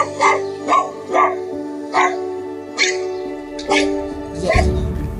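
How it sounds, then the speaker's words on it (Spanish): A dog barks repeatedly in a residential area, about six sharp barks spaced roughly a second apart, fairly close and loud, with a whimper-like tail and some low rumbling at the end. "Todos los días escuchaba unos ladridos desde una zona residencial."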